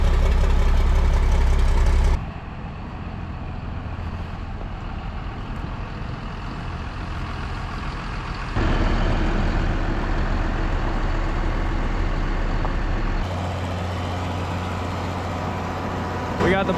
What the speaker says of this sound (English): I got this tractor warming up